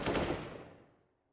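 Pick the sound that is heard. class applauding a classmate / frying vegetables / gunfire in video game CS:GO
gunfire in video game CS:GO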